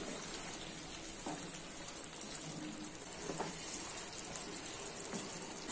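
Fried cauliflower and potato stirred into boiling gravy for aloo gobi, a soft constant sizzle and bubbling with a few faint clinks from the pan, fairly quiet and close.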